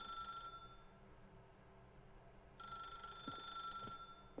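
In The Stanley Parable video game, a telephone trills briefly, goes quiet for two seconds, then rings again in a longer shrill burst, up front over a soft low hum.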